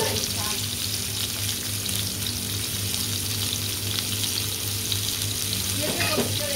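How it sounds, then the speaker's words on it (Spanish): Onions frying in oil in a pan for a chicken and potato pie give a steady, loud, continuous sizzle, with a low hum underneath and faint stirring or water sounds near the end. "echar otro poquito de aceite aquí, para que se puedan hacer las cebollas"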